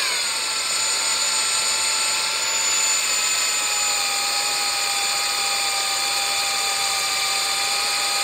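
A power drill bores out a broken stud on a Brunswick A2 bowling pinsetter, a continuous whining motor with a slowly falling pitch under steady load, close and uninterrupted for several seconds.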